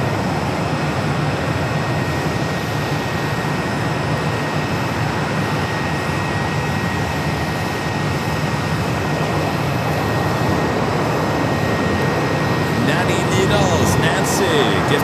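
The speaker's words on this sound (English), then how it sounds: "Here we have an A321 coming in from Ontario, California, American, 3016." An American Airlines Airbus A321 arriving from Ontario, California rumbles as a steady, fairly loud broadband roar throughout, with a faint constant tone above it and a slight swell near the end.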